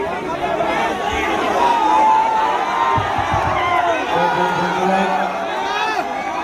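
A crowd at a political rally in Sasaram cheers and chatters, with a dense, loud wash of voices and whoops throughout, though distinct clapping is not clear.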